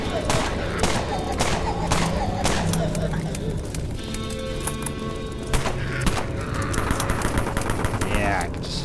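Pistol gunfire in the online zombie shooter Dead Frontier: a fast run of sharp, evenly spaced shots, loud and close, over a bed of game background noise.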